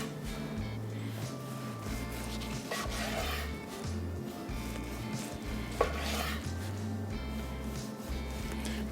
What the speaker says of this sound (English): I'm gonna slice it right here.